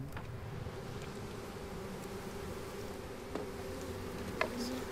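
Honey bees buzz around beehives in a garden in Crete, a steady faint drone close by with a few brief higher insect whines passing through.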